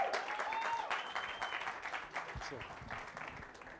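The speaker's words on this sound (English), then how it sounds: "Please, can we put our hands together for Bulelani Balabala?" A live audience at a business talk event applauds to welcome a speaker onto the stage, with dense, steady clapping that gradually fades and a voice talking over it.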